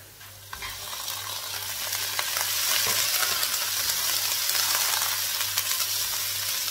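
Shrimp for spring roll filling fry in a pan, a loud, dense sizzle that builds and holds steady with occasional stirring scrapes.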